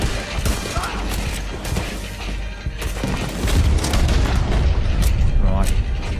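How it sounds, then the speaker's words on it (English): Gatling gun fire from a Red Dead Redemption 2 gunfight, a dense rumble of shots and booms running through the whole stretch and swelling louder in the second half, with a voice talking over it. "Oh, he's got the Gatling gun. Come on! He's shooting."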